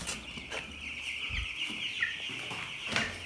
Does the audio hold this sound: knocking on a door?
no